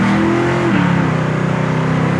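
A 1967 Chevelle Malibu accelerating hard, its engine roaring loud and steady from inside the car, with a gear shift breaking the rising pitch partway through before the engine pulls on again.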